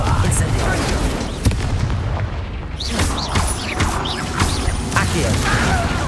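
Fiery spell blasts from Confringo and Incendio in Hogwarts Legacy, booming impacts and crackling bursts filling a dense, loud stretch of combat noise with a voice shouting over it.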